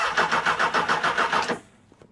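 A Honda CB600 Hornet motorcycle with a weak battery turns over in a rapid pulsing starter crank for about a second and a half, then cuts out to near silence without catching.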